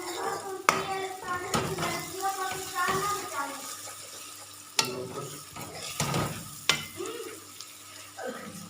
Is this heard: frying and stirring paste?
yes